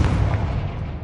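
Loud, dense rumble of a Confringo blasting spell explosion in a wizard video game, a heavy low boom sustained across the whole short moment without any talking.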